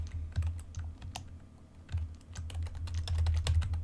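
Computer keyboard typing while network settings are entered on a firewall admin page, close and steady with quick irregular key clicks and a low hum underneath.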